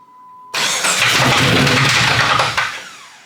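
After a faint tone, a Jeep 4.0 engine cranks and catches with a loud roar, running rough and noisy for a couple of seconds before dropping off.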